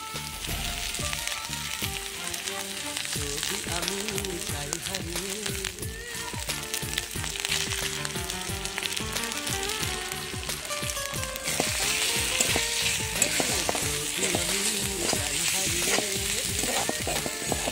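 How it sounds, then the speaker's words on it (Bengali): Chopped tomatoes fry in a spiced masala, making a continuous loud sizzle with frequent stirring clatter. The hiss grows stronger near the end. "টমেটোটাকে একটু নরম করে ভেজে নেব, যাতে টমেটোটা গলে যায়।"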